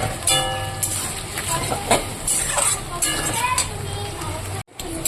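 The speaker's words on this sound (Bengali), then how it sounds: "বটবটি আর বেগুনটাকে আমি ভেজে নেব" Eggplant and other vegetables sizzle and crackle steadily in hot oil, with stirring scrapes, while someone talks over the frying.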